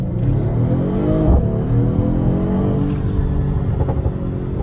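A Mercedes-AMG engine revs hard and climbs through the gears, loud and close, with a steady rising drone and brief dips at each shift.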